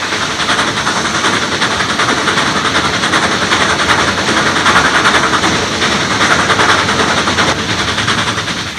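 Southern Pacific 4449 steam locomotive running down the line, a loud, dense, continuous roar and rumble of engine and rolling wheels close by, with no voices.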